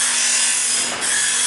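A saw rips through a log of ebony wood in a woodworking shop, making a loud, continuous, steady rasping roar that barely dips.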